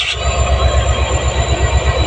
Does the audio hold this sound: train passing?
yes